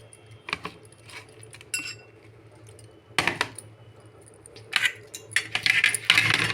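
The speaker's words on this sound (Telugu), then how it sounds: "ఇదిగోండి నేను గాజు గ్లాసుల్లో ఐస్ ముక్కలు వేస్తాను." Ice cubes drop into glass tumblers while grape juice is prepared, giving scattered close clinks and clatters in short bursts, loudest toward the end.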